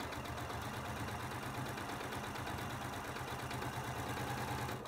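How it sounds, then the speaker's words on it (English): A sewing machine stitching quilt fabric scraps together for crumb quilting, running steadily with a fast rhythmic hum and needle chatter throughout, fairly quiet and close, with no talk. "So I'm going to sew that."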